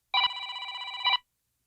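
Old black telephone from the horror film The Black Phone ringing with a bright metallic bell trill, one sustained ring about a second long, close and clear, then silence.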